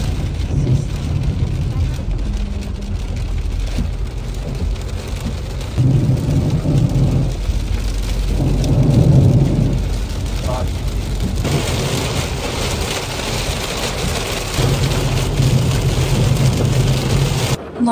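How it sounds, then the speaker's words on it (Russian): Heavy rain pours in a constant roar during a storm in Lecce, Italy, with low rumbles swelling now and then, heard steadily from close by. "На улице такой дождь, такие страшные погодные условия"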